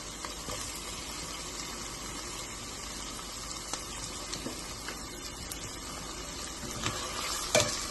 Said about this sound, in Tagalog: Halo-halo lang. Gisa-gisa.